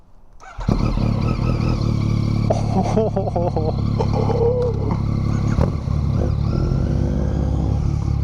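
A Yamaha CP3 motorcycle engine with a newly fitted exhaust kicks in after a brief quiet start, then revs loudly and steadily through a throaty exhaust, with some rising throttle blips in the middle.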